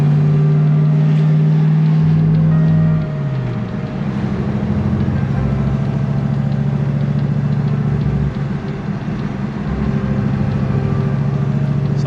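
An LS V8-swapped Lexus IS300 idles loudly, then pulls away and cruises, its engine drone steady and close with a rise in pitch early on and no one talking.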